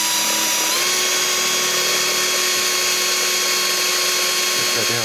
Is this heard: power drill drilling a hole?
yes